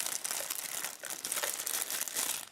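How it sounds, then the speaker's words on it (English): A clear plastic wrapper crinkles and crackles as it is pulled off a boxed UrBen electric pencil sharpener, close and continuous with bursts of sharper rustling and no speech. "So let's go ahead and remove the clear plastic wrapper."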